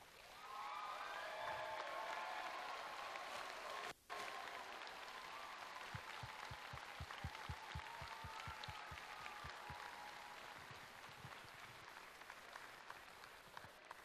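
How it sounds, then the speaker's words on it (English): An audience at a FIRST Tech Challenge robotics championship in Iowa applauds in a dense, sustained wash of clapping that stays steady and fairly distant, briefly broken by a short gap. "Let's give you all a round of applause."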